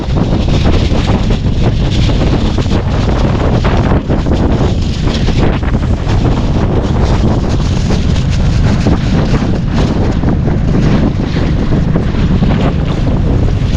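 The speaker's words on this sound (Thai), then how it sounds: "อันนี้เบิ่งลมน่ะพัดขึ้นพัดลง" Strong, unusually fierce wind buffets the microphone outdoors, a loud continuous roaring rush with gusty surges and no voices.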